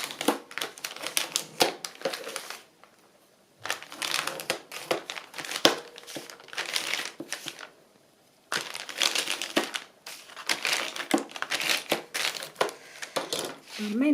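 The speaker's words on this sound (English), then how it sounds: "Bone folder time." A bone folder creases folded paper-bag journal pages in rough bursts of crinkling, crushing and scraping, close and uneven, broken by brief quiet gaps.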